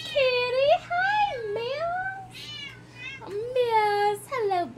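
A pet cat meows repeatedly and insistently indoors, with several drawn-out, rising and falling calls close by and short pauses between them.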